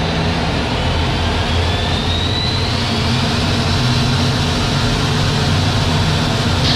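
A loud, steady jet engine roar from an L-39 Albatros jet trainer run up to full power with brakes held, broadband and sustained with a faint rising whine, no voices.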